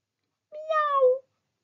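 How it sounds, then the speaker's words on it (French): A cat gives a single clear meow, about two-thirds of a second long, close and fairly quiet, alone against silence. "J'entends le chat qui miaule."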